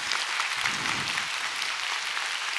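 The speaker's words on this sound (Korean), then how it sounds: "멋진 강연 들려주신 우리 곽지현 교수님께 다시 한번 큰 박수 부탁드립니다" An audience gives sustained applause after a public university lecture on the brain, with a dense, steady patter of many hands clapping at moderate loudness.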